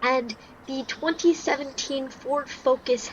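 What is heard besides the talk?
No everyday noise stands out behind the speech.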